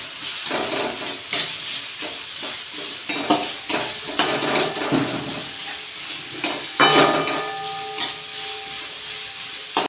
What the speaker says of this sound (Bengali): তেল গরম হয়ে আসলেই তাতে কুচি করে রাখা লঙ্কাগুলো দিতে হবে প্রথমে। এরপর দিতে হবে পেঁয়াজ কুচিগুলো।